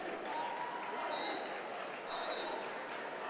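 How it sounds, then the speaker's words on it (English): Student section crowd chanting IU at a Bloomington North high school basketball game against New Albany, a steady loud roar of voices filling the gym with no clear breaks. "the Bloomington North students with a little bit of an IU chant"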